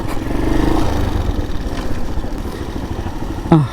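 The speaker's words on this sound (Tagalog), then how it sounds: "panis yung river crossing na yan sa motor na ito" Motorcycle engine running steadily during a river crossing at a resort in the rainy season, a close, rumbling drone with a brief sharper burst near the end.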